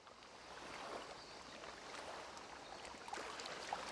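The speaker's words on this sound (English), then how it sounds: "I like the sound of the water." Soft, continuous water wash and lapping from the fishing game The Angler, a faint, even wash of waves with a couple of small splashes near the end, no voices.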